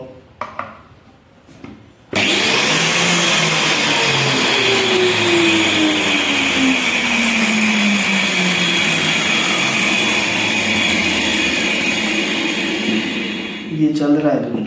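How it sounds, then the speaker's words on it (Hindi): An electric grinder powered through an electrical testing board starts abruptly and runs at a loud, steady high-pitched whine for over ten seconds, then cuts off; faint handling noises come before and after. "और अब हम ग्राइंडर को चला के देखेंगे"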